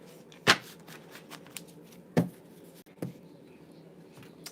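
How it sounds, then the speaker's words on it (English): A deck of tarot cards is shuffled by hand close up, giving a few quiet riffles and soft slaps at irregular intervals over a faint room hush. "Let me just shuffle these."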